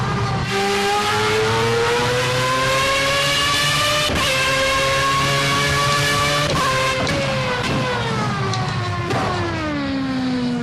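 A Formula A racing car engine in the video game Project Cars revs and climbs through its gears in repeated surges, with sharp shifts between pitches. The whine is loud and continuous, with no talking.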